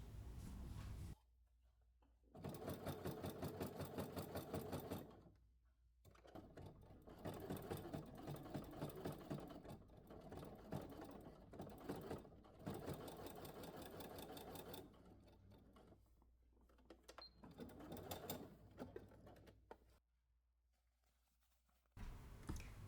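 Sewing machine stitching through layers of leather for a handbag, a fast mechanical whir in several long runs separated by short pauses, with a faint hum underneath.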